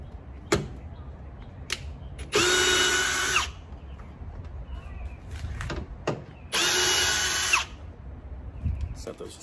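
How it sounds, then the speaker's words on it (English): A power drill fitted with a 10mm socket spins out bolts on a 2021 Toyota Tacoma SR5 Trail Edition bumper in two loud, close bursts of about a second each, between clicks and handling noises. "10mm bolts, I'm going to be using a 10mm socket"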